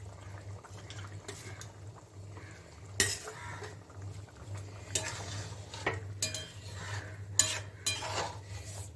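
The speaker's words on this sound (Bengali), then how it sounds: "ঝোলটা ফুটে উঠেছে, আমি এই ডিমগুলো আমি ছেড়ে দিচ্ছি।" Eggs dropped into boiling potato curry gravy in a pot, with scattered metallic scrapes and clinks of a stirring spoon over a steady low bubbling simmer, close and moderately loud, no talking.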